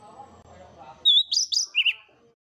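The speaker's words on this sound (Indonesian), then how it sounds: "Burung ara mata merah." Red-eyed fig parrot (Specoderus viridis) of mountain forests giving a few sharp, high chirping calls in quick succession, loud and near, following a brief murmur of faint background sound.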